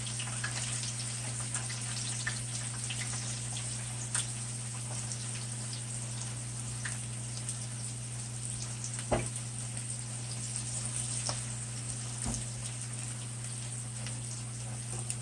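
Salmon patties frying in a pan give a steady, even sizzle with faint crackles throughout, and a couple of soft clicks suggest the patties being flipped; no one speaks.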